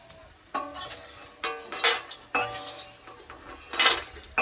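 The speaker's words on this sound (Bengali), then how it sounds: "এখন হচ্ছে বড়িটাকে ভেজে নিচ্ছি" Sun-dried lentil dumplings called bori are fried and stirred in a pan, with a soft sizzle under sharp metallic clinks and scrapes of a utensil against the pan at irregular moments.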